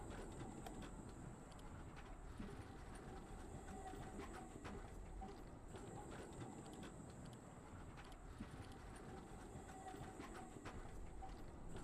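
Tram ride inside the Abiotic Factor video game, a continuous rumbling rail rattle with rapid clicking and a faint high steady whine, sustained and quiet throughout.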